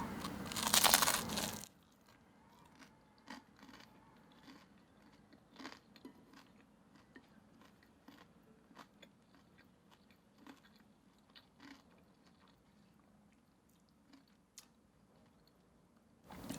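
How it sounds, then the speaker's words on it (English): Someone bites into crisp toasted aged English cheddar with a loud crunch, followed by a long run of softer, irregular chewing crunches and clicks, close and quiet. "Let's try the aged English cheddar. This one, obviously, much crisper."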